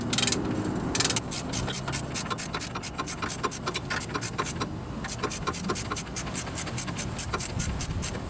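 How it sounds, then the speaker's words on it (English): A ratcheting wrench clicks rapidly and steadily while torquing a tie rod on a 1997–2004 Ford F-150, with a brief rub of metal at the start and faint background noise throughout. "Now you're going to torque this one to 76 foot-pounds as well."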